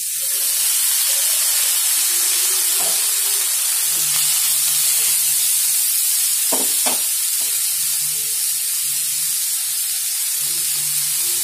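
Tomatoes hitting a hot pan for soya chilli, with a loud steady sizzle and steamy hiss throughout, plus occasional stirring knocks close by, no talk.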